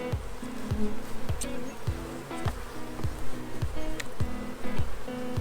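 Honey bees swarm around an open hive during a spring inspection, a dense close buzz and hum running throughout, broken by regular knocking handling sounds.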